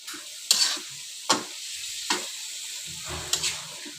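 Rohu fish being sautéed in a pan with stirring and sizzling, spatula scrapes landing in a few sharp bursts over a steady frying hiss, with no talk.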